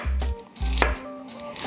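A knife chops spring onion on a cutting board in a few firm, evenly spaced strokes, each a dull thud close up, with no voices.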